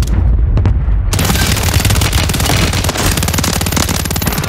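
SOA Subverter rifle from Call of Duty firing in loud, rapid sustained bursts, dense repeated shots close up after a brief quieter lead-in, with no talk over it.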